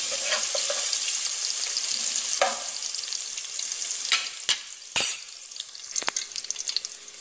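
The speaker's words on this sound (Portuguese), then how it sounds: "Ó, eu fui mexendo para ele não amargar, né?" Garlic fries in a pan with a steady bright sizzle and crackle, broken by a few sharp scrapes and clinks as it is stirred, close by and with no talking.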